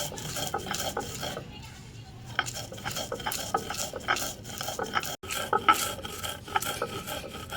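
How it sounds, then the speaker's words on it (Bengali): Steady rasping and scraping of a cooled homemade spice mixture being ground into a paste, probably on a stone, with irregular rubbing strokes close by and one brief gap near the end. "এবার আমি বেটে নেব।"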